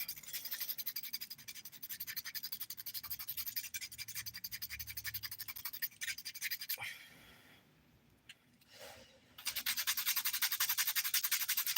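A nail file rasps rapidly back and forth over dip powder nails in quick, close, fairly faint strokes, pausing briefly before the filing resumes, with no talk.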